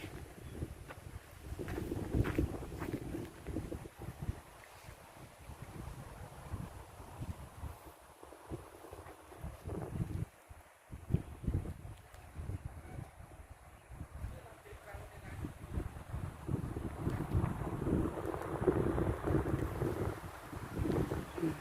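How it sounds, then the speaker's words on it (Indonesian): Strong wind gusts on a pine forest hilltop at Selo Gedong buffet the microphone in rumbling, uneven surges that rise and fall continuously, with a voice speaking at times. "Anginnya kenceng juga di sini."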